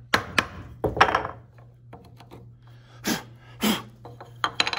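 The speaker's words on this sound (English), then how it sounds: "I like to chop across the grain first" A chisel chopping across the grain of wood while making a marking gauge, a few sharp close knocks and thunks spaced irregularly, with a low steady hum beneath.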